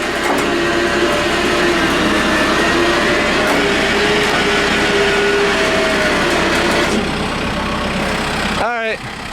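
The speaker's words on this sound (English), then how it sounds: "that tractor is pretty much the absolute max weight-wise this winch can pull. You can hear it's really straining." A trailer-mounted winch strains under heavy load as it drags a tractor up onto the trailer deck, a loud continuous motor whine with a shifting pitch, cut by a brief sharp squeal near the end.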